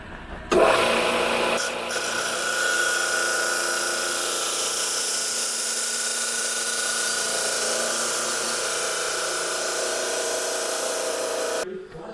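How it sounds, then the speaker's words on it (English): A chop saw cuts through a cheap steel socket, splitting it lengthwise down one side in one long steady grinding whine that runs for about ten seconds, then winds down. "put this in the chop saw and split this whole thing on one side all the way down"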